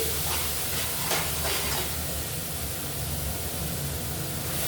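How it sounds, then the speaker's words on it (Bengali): Spice paste drops into hot mustard oil with nigella seeds and sizzles in a steady, loud, close hiss of frying that lasts throughout. "আর এখন আমি মশলাটা দিয়ে দিচ্ছি।"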